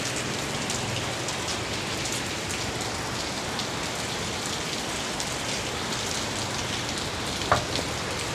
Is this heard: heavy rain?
yes